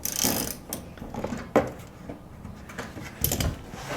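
A ratchet working fender bolts loose on a 2015 Jeep Wrangler JK Rubicon, uneven close mechanical clicking and scraping with a few sharper knocks, moderately loud and alone.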